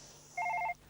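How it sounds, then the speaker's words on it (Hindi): A telephone rings once, a short bright electronic trill that stops abruptly over a quiet room tone. "यार, एक और कंडोलेंस फोन।"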